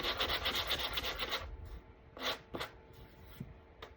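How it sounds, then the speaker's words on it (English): Brisk back-and-forth rasping of hand sanding on a rough wooden spindle pumpkin, continuous at first, then a few separate slower strokes with quiet gaps. "I'm going to give this a little bit of a sanding"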